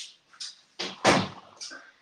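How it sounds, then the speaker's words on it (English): An indoor door is pushed shut with a soft thunk partway through, among faint rustles and movement at close range. "Let me shut this door."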